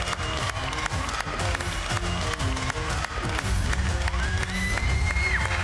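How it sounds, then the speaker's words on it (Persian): A talent show audience claps and cheers for a contestant taking the stage, with steady dense applause alongside music and a host's voice. "علیرضا چگینی از کرمانشاه رو تشویق میکنیم"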